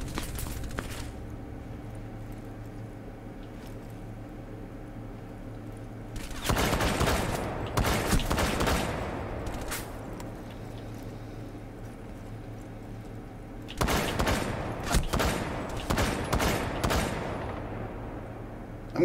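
Bursts of gunfire in Rainbow Six Siege, two dense volleys of rapid shots separated by quieter ambient game sound, loud and close with no talk over them.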